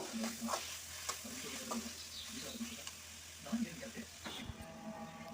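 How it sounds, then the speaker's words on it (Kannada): Bitter gourd curry being stirred in a pan after garam masala goes in, with soft scraping and a low sizzle running steadily beneath a voice talking. "ಚೆನ್ನಾಗಿ ಮಿಕ್ಸ್ ಮಾಡ್ಕೋಬೇಕು"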